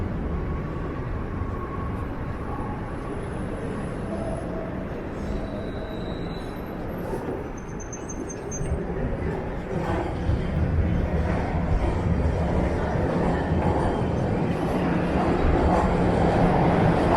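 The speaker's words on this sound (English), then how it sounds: "The Line 1 subway." A Line 1 subway train rumbling past in a downtown city setting, a broad steady roar that swells louder in the second half amid street ambience.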